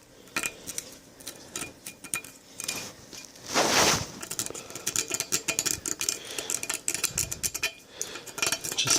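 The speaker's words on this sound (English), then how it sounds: "get a little screwdriver, just give her a little scrape" A small screwdriver scraping corrosion off a tire rim's bead seat, a run of close, sharp metallic scrapes and clicks in irregular bursts, with one longer grinding scrape near the middle.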